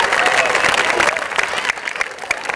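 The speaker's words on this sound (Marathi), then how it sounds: "त्या गाडीसाठी देखील टाळ्या वाजवू आपण" An audience at a film promotion event held by a Marathi educational society claps loudly and continuously, dense close applause with crowd noise throughout, fading slightly toward the end.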